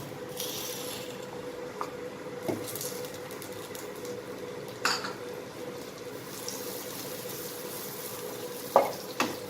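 Butter heating in a pan on a stove, a soft steady sizzle with faint crackles and a few sharp clicks and taps of utensils, close but quiet, no talking.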